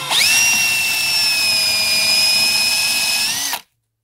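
A power drill spins an eccentric flaring tool against copper tubing, giving a steady, loud whine that holds for about three and a half seconds before cutting off abruptly.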